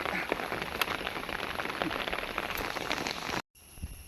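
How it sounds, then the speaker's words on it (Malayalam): Dense, steady rainfall hisses on a surface close by in a garden plot where drumstick tree cuttings are being planted, then cuts off abruptly near the end, leaving a quieter background. "നല്ല മഴയും കൂടെ ഉണ്ട്"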